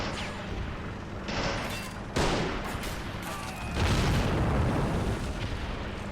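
Dense gunfire and booming blasts in the Men of War: Assault Squad video game, set in the 1942 Battle of Stalingrad as German troops enter the city, a loud continuous barrage with heavier bursts rising over the rumble.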